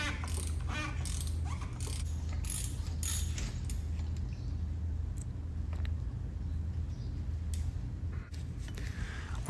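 A ratchet with a 32mm socket loosens the oil filter housing on a Porsche Cayenne, a burst of close clicking ratchet strokes early on, then quieter mechanical handling over a steady low hum.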